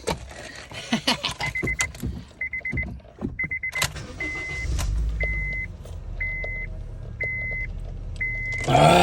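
2007–2008 Honda Fit Sport (GD3) with a newly installed Injen cold air intake: keys jingle and a door chime beeps repeatedly, then the engine starts and settles into a low, steady hum close by.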